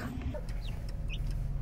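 Young chicks, grown fairly large and close to becoming hens, cluck softly on a free-range farm in Australia, with a few short calls rising over steady low background noise.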